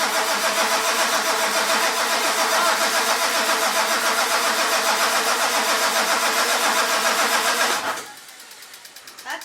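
A 1946 Ford engine with glow plugs, unused for years, cranks in a fast, rhythmic, pulsing chug for about eight seconds before cutting off, leaving near-quiet with a faint thump at the end.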